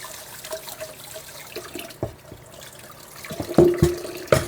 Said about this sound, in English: Wash it off real quick.